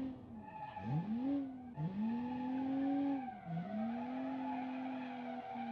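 A video game race car spins out, its engine revving and whining with pitch swooping down and up as tires screech and skid, continuous and loud.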